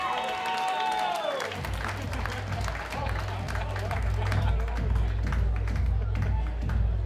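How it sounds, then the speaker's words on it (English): A crowd applauds at a bodybuilding show, the steady clapping rising after a short electronic tone and carrying on beneath a low droning hum in the hall. "Big round of applause, folks."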